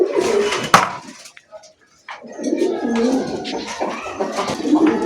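Grizzle racer pigeons, a yellow-eyed pair, cooing close by in a loft, soft repeated low coos with a brief pause midway, alone without talk.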